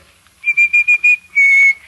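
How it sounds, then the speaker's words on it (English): A person whistles a short bright tune, five quick separate notes followed by one longer held note, clear and close with no other sound around it. "Anytime you need me, just whistle."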